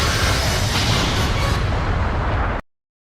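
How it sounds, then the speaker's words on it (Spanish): Thunderous explosion from two warriors clashing in a fantasy battle, a loud continuous blast with a rumbling low end that roars for about two and a half seconds before cutting off abruptly. "Se habría provocado una fuerte explosión por el poder de los dos guerreros."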